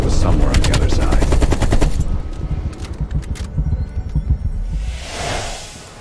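Gunfire in the video game Call of Duty: Black Ops Cold War, with rapid loud automatic bursts up front, then scattered shots and battle noise, with a voice speaking over the action.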